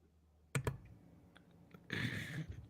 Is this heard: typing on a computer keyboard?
yes